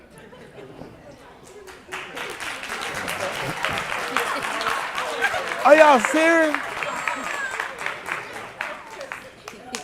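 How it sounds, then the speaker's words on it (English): Crowd clapping and chatter at a livestreamed gathering, rising partway through and carrying on under talk, with a voice breaking in loudly over the applause. "I heard the grandmama started clapping."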